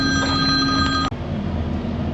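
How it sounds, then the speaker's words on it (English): A telephone rings with a steady electronic trill, fairly loud and close, that cuts off abruptly about a second in, leaving a low background rumble and no speech. "I got a phone call."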